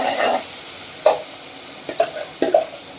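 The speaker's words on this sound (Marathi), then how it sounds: "नंतर आपण मसाला परतून घेणार" Finely ground masala frying in hot oil, a soft background sizzle punctuated by several sharp scraping stirs and clinks of a spatula against the pan.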